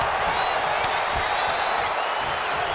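A wrestling arena crowd at a CM Punk versus Drew McIntyre WWE match roars in a steady, dense wall of cheering and noise that carries on without a break, with a commentator talking over it.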